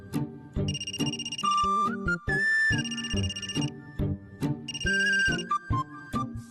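A phone ringtone plays as an outgoing call rings through, a repeating electronic melody in close, loud bursts with short pauses between them.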